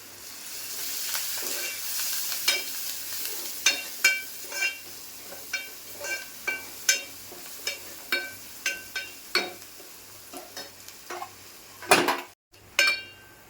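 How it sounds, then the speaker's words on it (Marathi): Shark fish pieces sautéed in a pan with ginger-garlic paste, red masala and coriander, a close sizzle under rhythmic spatula scrapes and clinks against the pan, ending with a louder clatter; no talking. "आता मी यात परतून घेते"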